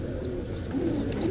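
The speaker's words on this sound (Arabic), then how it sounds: "اجنبيات ذني، حمام اجنبي." Foreign-breed pigeons coo at a Baghdad pigeon market, low rolling coos repeating close by over a dense murmur of market noise.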